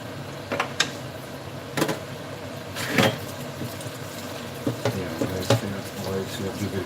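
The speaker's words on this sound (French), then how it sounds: "Donc ça, je vais rincer vite fait." Vegetables rinsed under a running kitchen tap, a steady wash of water with irregular splashes and clatters from handling close by, with some talk mixed in.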